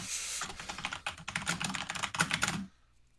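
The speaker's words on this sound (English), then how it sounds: "He's typing furiously." Fast, furious typing on a computer keyboard, dense close clatter of keystrokes for under three seconds before stopping into near silence.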